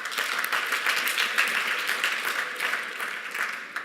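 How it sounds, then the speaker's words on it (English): Audience applause at a conference pitch event for ICO presenters, broad steady clapping from a crowd that continues at even loudness for the whole stretch. "So let's give them a round of applause."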